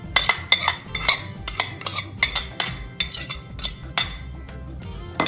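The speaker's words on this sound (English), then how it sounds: "I am just going to mash these with a fork" Hard-boiled egg yolks being mashed with a fork in a bowl for loaded deviled eggs, a close series of sharp metallic clinks and scrapes in an uneven rhythm, with no talk.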